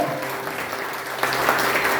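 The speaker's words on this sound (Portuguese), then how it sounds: "E aplauda Jesus de Nazaré para valer." A church congregation applauds during a Sunday sermon, a broad wash of clapping that swells louder partway through and carries on steadily, with no voices standing out.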